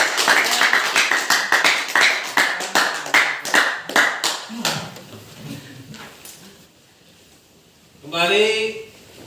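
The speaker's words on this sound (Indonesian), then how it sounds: "kita kasih aplaus untuk kelompok 2" A classroom group applauds a student presentation group, a few seconds of steady, rhythmic clapping that fades out, followed by a voice speaking.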